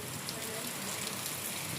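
Dense, steady hiss of heavy rain pouring down during a cyclone storm, a constant broadband wash with no breaks, and faint voices underneath.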